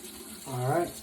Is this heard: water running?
yes